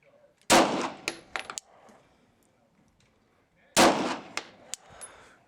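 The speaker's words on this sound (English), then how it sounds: "Take a couple of shots through this one." Two loud pistol shots from a Glock fitted with a 9mm conversion barrel, spaced about three seconds apart, each a sharp crack followed by metallic clinks of ejected brass and a short echo.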